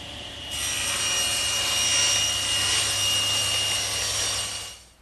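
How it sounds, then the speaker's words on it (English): A table saw rips plywood sides for a bookcase, a steady high whine and rasp that builds as the blade enters the sheet, holds for about four seconds, then fades out as the cut finishes. "I'll rip those 2 pieces from one of my half sheets"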